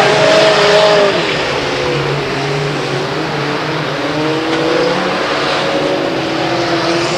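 Race cars roar around the oval at Delta Speedway, a loud continuous engine drone with several cars' revs rising and falling as they pass, no talk over it.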